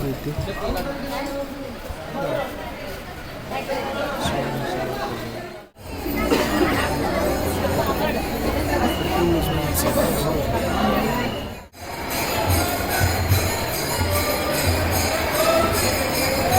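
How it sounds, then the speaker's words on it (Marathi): Dense crowd chatter fills the grounds of the Shri Swami Samarth temple. It is a steady, close babble of many voices, broken twice by brief cuts. "भरपूर गर्दी आहे"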